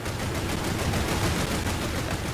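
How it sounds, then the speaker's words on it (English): Dense, continuous gunfire from tank battles in War Thunder, a rapid rattling fusillade of shots at moderate distance with no talking over it. "a lot of people are firing through the trees in the island"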